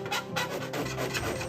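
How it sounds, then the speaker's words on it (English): Repeated rasping strokes of a file on a plastic RV step trim piece for an Airstream trailer step install, close and steady, about five strokes with no talk. "so I had to file it just a little"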